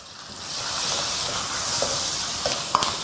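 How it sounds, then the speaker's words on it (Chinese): Green peppers stir-fried in oil over medium heat in a wok, a steady close hiss of sizzling with a few light clicks of the spatula against the pan. "用中火慢慢的煸炒，一边炒一边给它炸，稍微煸炒久一点"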